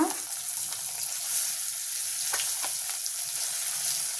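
Curry leaves and tempering spices fry in hot oil for a bottle gourd chutney, giving a steady, close sizzle with a few sharper crackles and light stirring.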